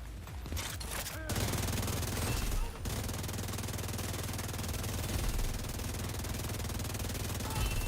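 Sustained automatic gunfire in The Division 2, a whole magazine emptied in a long rapid burst after a brief explosive start, loud and continuous with dense rattling shots.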